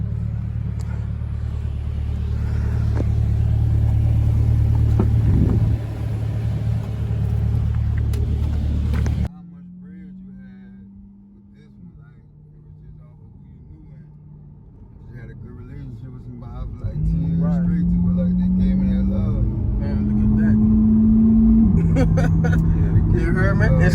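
A Corvette C8 being driven, with a loud engine rumble for the first part, then quieter cabin sound as the engine note rises and shifts, with people talking inside the car.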